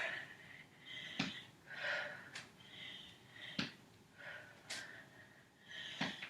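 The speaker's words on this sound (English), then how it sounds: "So obviously I'm breathing fairly heavily." A person breathes heavily during a cardio and strength workout, with repeated loud exhales and sharp sniffing inhales in an uneven rhythm, close and alone, with no talking.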